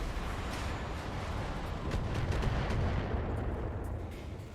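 LRM missile salvos slamming into turrets in the BattleTech video game, a dense sustained rumble of overlapping blasts and impacts that swells in the middle and then tapers off.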